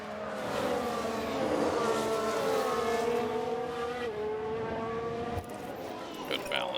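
A Formula 1 car engine in F1 Manager 2022 howls during an overtake at Imola, a steady high-pitched race-engine whine with shifting pitch running throughout at moderate level, with a voice talking over it.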